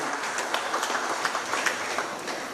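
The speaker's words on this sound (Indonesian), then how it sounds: "Berikan tepuk tangan kepada Bapak Pramono Anung." Moderately quiet applause from an audience at a government event in Jakarta gives a steady patter of scattered claps throughout, heard at a slight distance.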